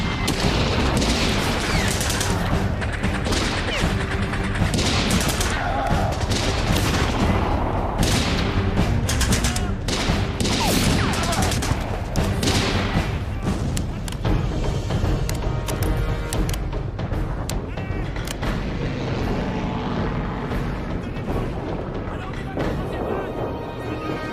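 Dense, continuous gunfire and booming explosions from a war film battle scene set at Stalingrad, with rapid volleys and heavy blasts filling the whole stretch while soldiers shout orders over the din.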